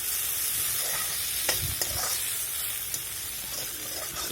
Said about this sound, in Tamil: ஒரு மீடியம் சைஸ் வெங்காயம், 2 பச்சை மிளகாய், கருவேப்பிலை இதெல்லாம் சேர்த்து நல்லா நறுக்கி வச்சுருக்கிறேன், அதையும் சேர்த்து வதக்கி கொள்ளுவோம்